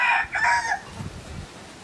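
Rooster crowing from hens kept on a farm, a loud nearby two-part crow followed by softer low clucking and fowl noises, with no talk.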